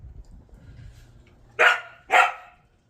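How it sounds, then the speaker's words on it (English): Two loud, close dog barks in quick succession, following a stretch of quiet low rumble. "What are you barking at me for?"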